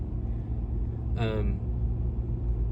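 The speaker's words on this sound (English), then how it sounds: "I'm currently driving home, so you'll have to excuse if there's any road noise or anything like that." Road noise inside a truck on the drive home: a steady, low rumble of tires and cabin drone throughout, with a brief voice-like sound partway through.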